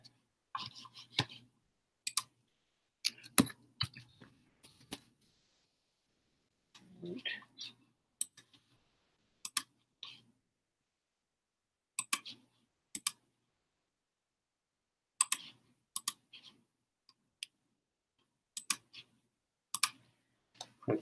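Mouse clicks in online phone-system training software, sparse sharp clicks in small clusters and singles spread across a quiet stretch, with occasional faint murmuring of a voice.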